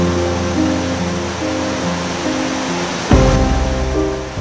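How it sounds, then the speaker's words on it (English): Kegon Falls, a massive waterfall in Tochigi fed by Lake Chuzenji, pours down as a continuous broad roar of water. A steady tonal layer sits beneath it, and there is a louder surge near the end. "Kegon Falls, a massive thundering waterfall that flows out of Lake Chizenjiko"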